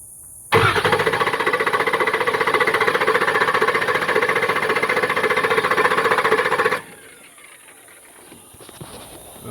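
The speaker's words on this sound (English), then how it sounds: "but I have a crank no start." Starter on a 2004 Ford F250 cranks steadily for about six seconds in a fast, even churning rhythm, loud and close, without the engine catching, then cuts off to quiet background.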